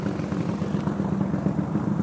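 A Falcon motorcycle engine with a new carburetor runs at high revs nearby on its side stand, a steady buzzing rumble with slight fluctuations and no voices.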